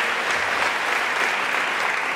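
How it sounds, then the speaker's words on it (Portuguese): A church congregation applauds during a worship service, steady dense clapping filling the whole stretch at an even, sustained level with no pauses. "Aplauda Jesus."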